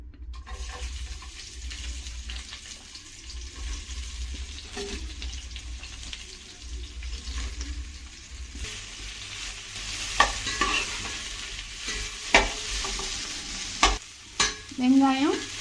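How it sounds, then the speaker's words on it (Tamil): Sliced onions sizzle steadily in a pan for chicken biryani, with a few sharp spoon scrapes and knocks from stirring toward the end; no voices. "வெங்காயம் நல்லா கோல்டன் ப்ரௌன் கலர் ஆகிற வரைக்கும் நல்லா வதக்கிக்கோங்க."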